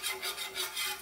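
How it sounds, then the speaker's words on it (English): A whisk scrapes rhythmically through a dark roux in a pot, four quick back-and-forth strokes in about a second, close and fairly soft. "So I'm just going to keep whisking this."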